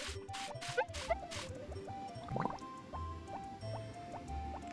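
Crops being watered in the Harvest Moon video game, soft repeated dripping and splashing with light game tones and chimes, faint and close, with no talk.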